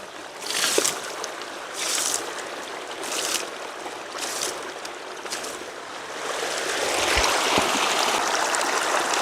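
Water splashes and pours steadily onto plants and soil during outdoor watering, nearby, in bursts at first and then in a more continuous rushing flow, with no talk.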